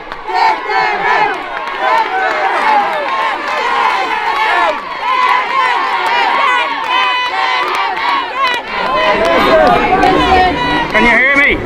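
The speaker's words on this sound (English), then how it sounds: "a huge crowd has come out here today." A large protest crowd in East Wall fills the air with dense, continuous shouting and chanting, loud and close throughout, with many overlapping voices and a surge of louder yelling near the end.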